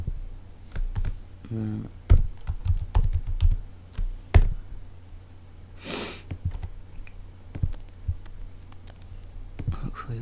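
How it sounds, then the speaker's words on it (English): Someone typing on a computer keyboard while building a WordPress website, irregular close clicks and key taps in bursts, with a few quiet spoken words and a brief breathy sniff. "I'll type in center,"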